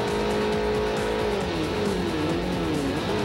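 A Ford RS200 Evolution rally car in Forza Motorsport 4 drones loud and steady, its engine pitch holding and then sliding downward as it drives, with a faint tire squeal and no voices.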